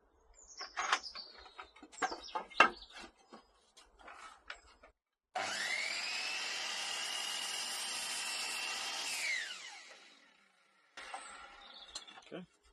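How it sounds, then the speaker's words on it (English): Saw making a 45-degree bevel cut through a wooden board, preceded by tapping and handling, then a sustained four-second cutting whine that winds down, with brief workshop handling noise afterward. "we're gonna make the first cut. So our first cut is gonna be at 45-degree bevel."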